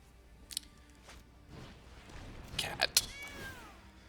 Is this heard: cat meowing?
yes